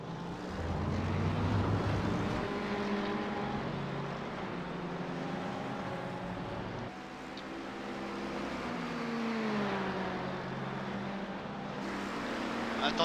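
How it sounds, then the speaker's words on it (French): Racing cars lapping Monza in an iRacing IMSA GTE race, one flashing its headlights to overtake an Audi; a steady, loud engine drone with shifting pitch fills the clip, dipping briefly mid-way before rising again. "Quand Greg Langham là il fait des appels de phare et dépasse la Audi"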